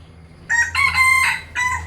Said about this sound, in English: These bloody cockerels here from about 3:30, 4 o'clock every bleeding morning.